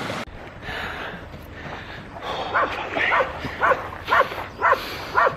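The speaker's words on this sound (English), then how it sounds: "Now we just got to make it past these bastard dogs again." A pack of wild dogs barks in a run of sharp, loud, fairly close barks that repeat at a quick irregular rhythm, with some quieter yips and breathy noises between them and no talking.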